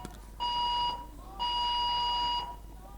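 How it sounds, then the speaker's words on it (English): Two long electronic beeps of a bell or alarm, the second longer, steady and tonal over a quiet room hum. "Oh, it's the school bell."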